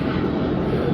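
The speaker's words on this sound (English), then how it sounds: "we're by the airport and all the military jets are doing training today." A military training jet roars overhead near an airport, a dense, continuous rumble that fills the whole moment with no voices.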